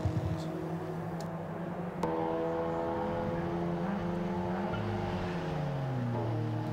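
TCR touring race cars lap the Spa circuit with loud, continuous engine roar and clear gear-change pitch steps, a second car joining near the two-second mark as tones sweep with acceleration.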